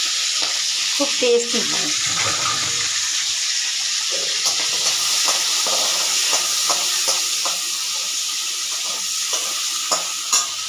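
Shrimp sizzle in the pan of a rohu fish curry, a constant crackling hiss under repeated stirring and scraping, while someone speaks briefly.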